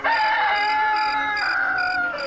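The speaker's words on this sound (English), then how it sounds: "he gave a hurried cock-a-doodle-doo." A rooster's loud, hurried cock-a-doodle-doo rings out close and alone in a story scene, one sustained crow with bright tonal harmonics.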